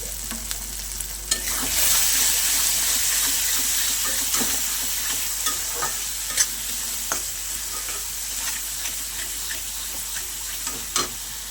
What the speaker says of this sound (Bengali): সব কিছু আবারও খুব ভালো করে মিশিয়ে নেব